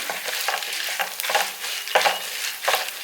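Tomato chutney ingredients roasting and stirred in hot oil in a pan, a steady close sizzle with periodic scraping strokes of a spatula, no voices.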